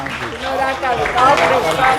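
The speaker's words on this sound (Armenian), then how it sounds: "Դե մի հատ ծափեր տվեք" Applause and cheering from a small family gathering celebrating a mother's birthday surprise, a continuous patter of clapping mixed with excited voices and chatter throughout.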